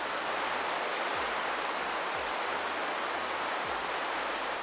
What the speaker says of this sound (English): Alright, that's waterfall number 2.